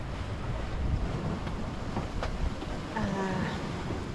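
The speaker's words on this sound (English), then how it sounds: "But now the wind is like 15 knots" Wind at sea buffets the microphone in a steady, rough rumble aboard a sailboat crossing the Pacific, with water sloshing faintly underneath.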